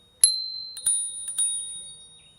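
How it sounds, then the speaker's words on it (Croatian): A bicycle bell rings three times up close, bright metallic dings spaced about half a second apart, each tone ringing out and fading, with no voices. "Zvončić."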